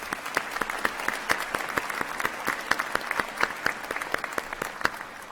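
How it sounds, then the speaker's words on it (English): Audience applause fills a graduation ceremony hall during an award presentation, steady dense clapping with sharp individual claps standing out, moderately distant and sustained throughout. "please join me in a round of applause for her"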